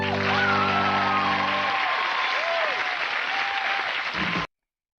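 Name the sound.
audience cheering and applauding in a played clip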